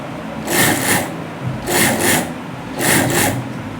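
Sewing machine stitching along the edge of a round neckline on fabric, three loud close bursts of rapid whirring needle action separated by short pauses.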